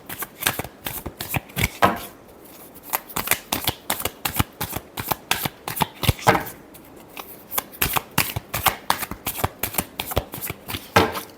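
Tarot cards are shuffled repeatedly at close range in sharp, rapid riffling bursts with brief pauses between, crisp and distinct, with no talking.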